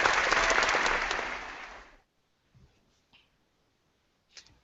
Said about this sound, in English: No drama. Just applause.